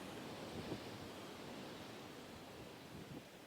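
Stormy sea waves at the beach in Livadia, Crimea, in February, a steady roaring wash of surf and spray with wind noise, no talking, a couple of slightly stronger surges within the continuous rumble.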